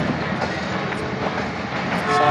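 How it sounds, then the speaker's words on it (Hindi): A train at Taxila railway station rumbles steadily and loudly along the track for the whole stretch, with a tonal horn-like edge creeping in near the end and no voices over it. "देख सकते हैं गाड़ी भी आ चुकी है दूसरी साइड ट्रैक पे,"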